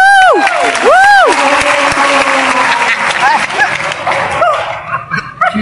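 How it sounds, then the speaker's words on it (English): Broadband clapping from an audience runs through the whole stretch, loud and steady, mixed with whooping calls and vocal swoops that rise and fall over it. "You see him clap?"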